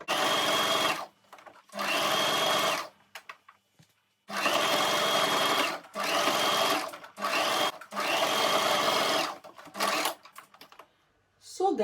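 A sewing machine stitches T-shirt fabric for a turban in a series of short bursts, each a second or two long, separated by pauses, close and clear.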